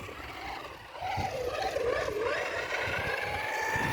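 A 1/6 scale FG Leopard RC car runs on its petrol engine with plastic primary gearing, giving a steady close buzzing drone with a rising and falling pitch that swells after the first second.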